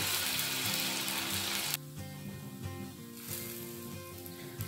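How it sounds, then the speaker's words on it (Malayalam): Bread dosa batter hits a ghee-greased griddle with a bright, loud sizzle that cuts off abruptly, leaving a quieter, lower frying crackle. "ഇനി നമുക്ക് ഇതിലോട്ട് ദോശ മാവ് ഒഴിച്ചു കൊടുക്കാം"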